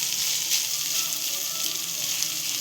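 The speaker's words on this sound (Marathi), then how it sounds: "चांगल्या प्रकारे असं परतवून घ्यायचं, जेणेकरून आलं लसूणचं वास आलं लसूण किंवा कांद्याचा वास नाही आला पाहिजे" Ginger, garlic and onion sauté in a hot pan for a Marathi dal-onion dish, giving a loud, steady, dense sizzle that runs unbroken throughout with no voices.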